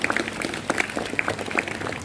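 A group in a classroom claps together in a brief, fairly faint burst of scattered, irregular hand claps.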